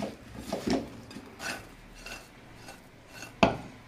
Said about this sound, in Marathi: तर याला मी आता हातानेच कालवून घेते असं